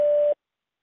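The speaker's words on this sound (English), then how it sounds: "Please state your name after the tone" A Google Voice prompt tone sounds once, a clean steady beep lasting about a third of a second before abrupt silence.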